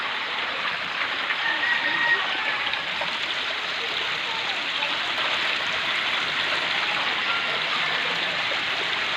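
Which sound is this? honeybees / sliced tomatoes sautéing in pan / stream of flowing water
stream of flowing water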